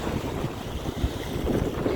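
Wind and water on the Bruce Peninsula: gusty wind buffets the microphone over a soft, continuous wash of moving water, with no voices.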